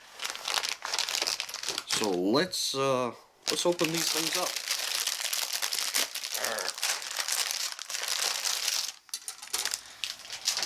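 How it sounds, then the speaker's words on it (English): Crinkling plastic bags holding Gunpla model kit parts, handled up close in repeated rustling bursts, with a person talking over them. "I was going to apologize for any of the crinkling and noise, but apparently that's part of the hobby"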